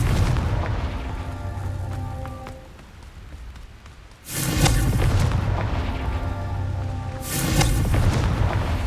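In the video game Hogwarts Legacy, the Confringo fire spell goes off as a deep, rumbling booming blast, loud and close, over a continuous low game ambience, with a second burst a few seconds after the first.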